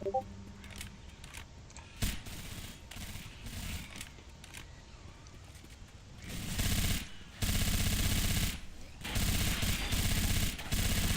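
Weapon handling clicks during a reload, then bursts of rapid automatic gunfire in the shooter game Left 4 Dead 2, the shots coming in loud sustained volleys near the end.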